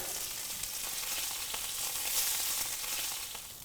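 Filet mignon steak searing in a hot pan gives a steady, close, fairly loud sizzle and crackle that holds even throughout, with no voices.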